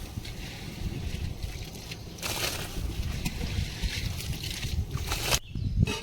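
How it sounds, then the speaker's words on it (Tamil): Steady bubbling and sloshing of water with rice at a rolling boil in a pot for jackfruit biryani, dense and continuous, with a brief lid or stir clatter near the end. "தண்ணி கொதிச்சிட்டு இருக்கு நல்லா"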